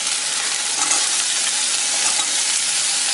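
Cauliflower and potato pieces sautéing in oil in a pan for a poriyal, an even, continuous sizzle with faint stirring, steady and close, with no voices.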